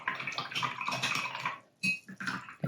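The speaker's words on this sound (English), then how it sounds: "And rinsing my brush in between," A watercolor paint brush swished and rinsed in a small container of water, soft sloshing and trickling up close, with a short pause before a few more splashes.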